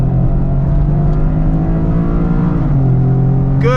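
A 2025 Toyota GR Corolla engine drops through a double downshift and pulls hard out of a tight left-hand corner, a loud close droning growl with rising revs and a brief shift break near the end.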